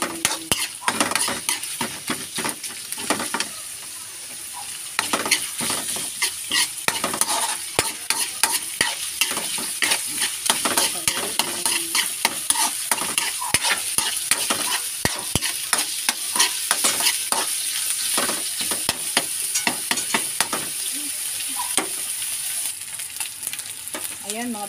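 A spatula scrapes and clatters steadily in a sizzling pan as adobong sitaw with sotanghon and ground meat is stirred, constant frying hiss beneath irregular metallic strokes.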